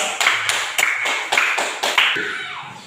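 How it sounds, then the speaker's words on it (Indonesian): A school class claps for a student group in a short rhythmic burst of about six sharp, evenly spaced claps, close and fairly loud, fading out at the end. "tepuk tangan buat kelompok 3"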